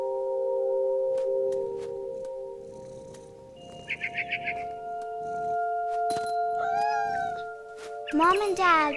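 A cat meows in What Remains of Edith Finch, a few short, rising calls heard near the end over a steady droning game soundscape, with a brief chirping trill earlier.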